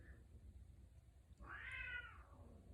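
A cat gives a single drawn-out meow partway through, moderately close against a low background rumble, with no talking.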